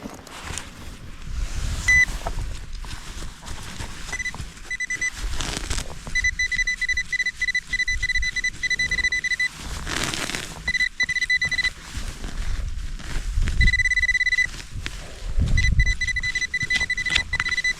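Repeated electronic beeping tones from a metal detector come in on-and-off bursts over outdoor forest rustling and wind, close and fairly loud.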